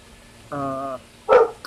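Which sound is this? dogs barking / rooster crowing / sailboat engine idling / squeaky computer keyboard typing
dogs barking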